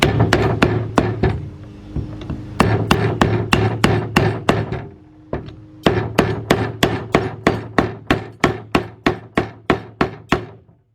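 A hammer strikes a 4x4 wooden block over and over in steady, ringing blows while removing the oil pan of a 2005 Cadillac CTS 3.6 engine, two bursts of rapid hits separated by a brief pause.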